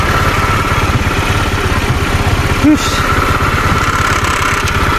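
A cheap junk-shop motorcycle idles close by, its engine putting out a steady, even low putter for the full five seconds with one brief louder knock partway through.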